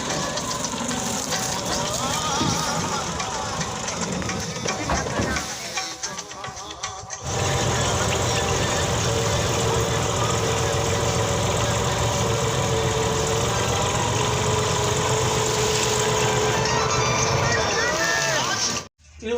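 A motorcycle engine running loud and close, holding a steady drone that drops out briefly, then returns; voices talk over it.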